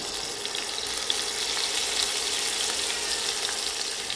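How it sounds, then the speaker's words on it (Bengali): Shashlik skewers dropped into hot oil in a pan on a stovetop over medium heat, giving a continuous, even frying hiss that stays steady and fairly close throughout with no talking. "তেল গরম হয়ে এলে এখন আমি শাসলিক দিয়ে দিচ্ছি"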